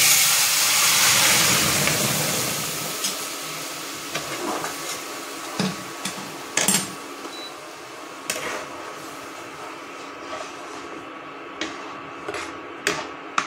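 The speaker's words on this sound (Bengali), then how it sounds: "এবারে আমি ডালটাকে ঢেলে দিচ্ছি।" Masoor dal lentils tipped into a hot pan on a home stove, a loud rushing sizzle that swells at first and then fades to a soft hiss broken by scattered small pops and crackles.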